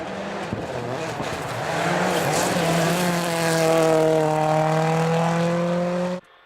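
Rally car driven flat-out along an icy gravel stage in the South Canterbury Rally, its engine note climbing steadily through the revs and holding a loud, sustained howl close to the microphone before cutting off abruptly near the end.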